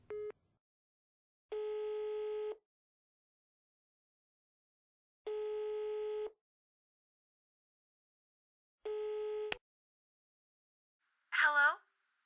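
Telephone ringback tone from a call being dialed in, three evenly spaced electronic tones separated by silence, followed by a short warbling electronic burst at the end.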